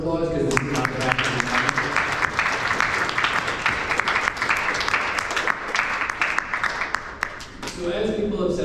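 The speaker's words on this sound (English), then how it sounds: "Let's give Arthur a round of applause" A large audience at a Binghamton debate event breaks into sustained, dense applause that fills the room for several seconds. It begins over a speaker's voice and fades as talking resumes.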